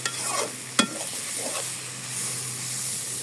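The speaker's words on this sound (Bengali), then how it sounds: "পাতাকপি ভাজি হয়ে গেছে, এখন আমি নামিয়ে নিই" Fried shredded cabbage, patakopi bhaji, hisses in a pan as a spatula scrapes through it, with a sharp clack near the start over a constant low hum.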